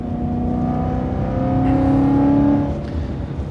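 BMW E92 M3 engine revving hard toward redline on the move, a loud, continuous rising drone heard from inside the car with no talk over it.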